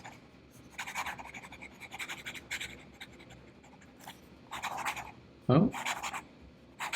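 A Montblanc StarWalker Doué fountain pen scratches quickly across paper in bursts of rapid strokes, close and fairly faint, with a brief spoken exclamation partway through.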